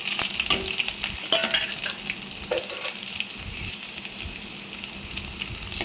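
Garlic and dried red chillies with mustard and cumin seeds sizzle and crackle in hot oil for an amaranth-tomato curry, a steady close frying hiss with scattered pops and stirring clicks.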